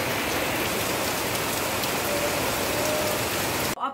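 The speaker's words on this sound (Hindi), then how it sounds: "बाहर देखिए जोरों की बारिश हो रही है" Heavy rain pours steadily outdoors as a dense, constant wash of hiss that fills the scene loudly, then cuts off abruptly near the end as a brief voice starts.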